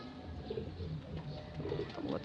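Pigeons coo softly in low, repeated burbling calls against a steady background hum of outdoor noise.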